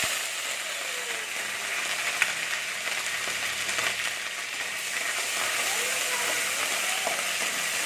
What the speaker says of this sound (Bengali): এটাকে একটু ভেজে নিচ্ছি।